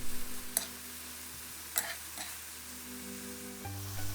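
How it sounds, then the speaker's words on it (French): Tofu sautéing in garlic sauce with sesame oil in a pan, a steady soft sizzle with a few sharp spatula scrapes and clicks, ending as a low hum rises when the heat is cut. "On imprègne bien nos tofu de la sauce aillée et on va couper le feu"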